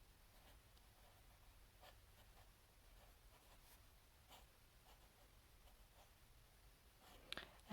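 An all-black Kaweco Perkeo fountain pen with a stainless steel medium nib writes on paper, giving faint, soft scratchy strokes in a quiet room with no talking, ending in a slightly louder tap.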